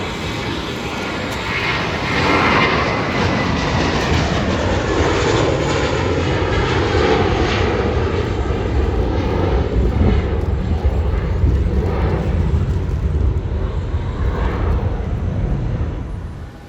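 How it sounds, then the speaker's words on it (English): An Airbus A319 airliner departs Hollywood Burbank Airport with a loud, sustained jet roar that swells and stays strong throughout, gradually fading at the very end. "Airlines Airbus A319 heading to Phoenix,"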